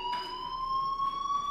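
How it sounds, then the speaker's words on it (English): Fire alarm in the video game Life Is Strange, a steady electronic tone ringing continuously at moderate volume throughout, with no voices over it. "Hey, do you hear that fire alarm?"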